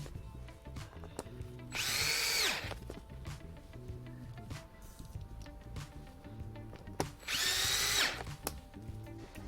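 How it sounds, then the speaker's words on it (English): Electric screwdriver driving screws into a universal side skirt on a 2013 Mazda 2 DE five-door, two loud whirring bursts a few seconds apart, each about a second long, over quieter background clatter. "Just use your electric screwdriver and just drill them in."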